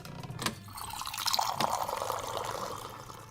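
Water splashing and pouring in a home at night, a steady liquid rush with a few brief clinks, moderately close and alone.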